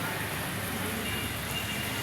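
Light drizzle falls steadily outdoors, a soft continuous hiss of fine raindrops on surfaces with no distinct individual drops, moderately quiet and unbroken throughout.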